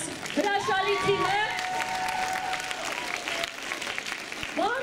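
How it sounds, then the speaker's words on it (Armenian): An audience applauds a team at a lively event, a steady clatter of clapping running under excited voices and a child's high squealing calls. "Եկեք ծափարենք մեր այս հրաշալի թիմը։"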